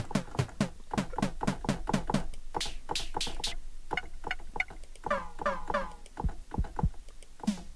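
Snare drum hits from a free Cherry Audio software synthesizer, a string of sharp, bright electronic snaps in quick succession, some with short pitched tails, played loud and alone.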